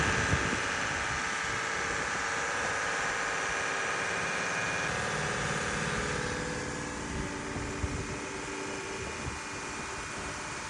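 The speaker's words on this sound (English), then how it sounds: "he's trying to sit there with the running engine to try to do something to get the engine to run better" A struggling boat engine runs steadily at close range, a loud continuous droning rumble with a rough vibrating texture that holds throughout.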